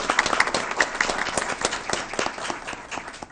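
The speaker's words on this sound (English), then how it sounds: "Let's give a round of applause." Applause from the audience at a school board meeting at a high school, a dense round of clapping at moderate level lasting a few seconds without pause.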